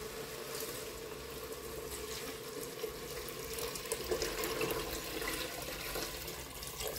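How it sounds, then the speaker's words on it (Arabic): Water pours steadily into a cooking pot for Moroccan harira soup, a continuous close gushing and splashing stream with no talking. "ان شاء الله غادي نكب الماء"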